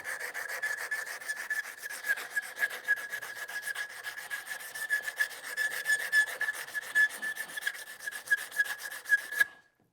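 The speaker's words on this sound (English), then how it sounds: "I have 180 grit sandpaper adhesive back that I've just folded over on itself." Continuous rasping of 180-grit adhesive-backed sandpaper, folded over on itself, rubbed back and forth on a wooden picture frame edge in quick, even shoe-shine strokes, close up, stopping abruptly at the end.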